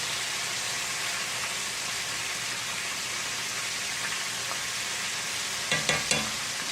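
Bone-in Southern fried chicken, single-dipped in country-style batter, fries in hot oil with a loud, dense, continuous sizzle, like hissing rain, and a few small clicks near the end.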